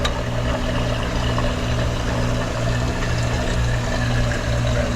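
Steady rush of water pouring and trickling as a Hoshizaki ice maker fills, with a low mechanical hum running underneath the whole time.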